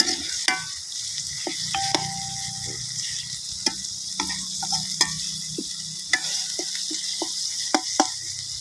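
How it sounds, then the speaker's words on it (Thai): Spicy bird meat stir-fries in a pan with holy basil, a steady sizzle broken by sharp scraping clicks of a utensil stirring at irregular intervals, close and moderately loud. "ผัดเผ็ดนกนะครับ"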